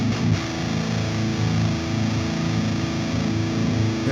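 Distorted electric guitar through a Driftwood Darkest Nightmare pedal with its treble voicing switched off, playing a dense, sustained, heavily saturated riff at steady volume for about four seconds, with no talking.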